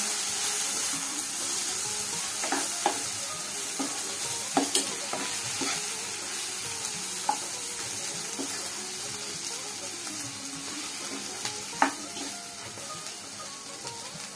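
Masala bhindi (okra) is stirred in a hot pan, with a steady broad sizzle running throughout and scattered spoon-on-pan clicks and scrapes sounding close and moderately loud.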